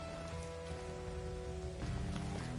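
Rain in the Final Fantasy XV game, a steady wash of falling drops on surfaces, under a low droning tone and soft ambient music.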